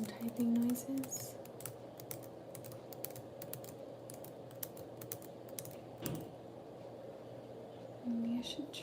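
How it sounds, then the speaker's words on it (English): Fingers tap at a computer keyboard at a workplace desk in a quiet, fairly distant patter of scattered keystrokes over a low steady hum, with faint hummed voice at the start and end. "Can do some typing noises."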